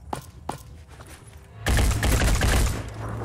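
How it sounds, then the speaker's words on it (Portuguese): Gunfire in the tactical game Phoenix Point: two sharp shots ring out early, then a loud sustained fusillade of rapid overlapping rounds fills the rest, dense and close. "Vai acertar, eu duvido, mas vale a pena atirar."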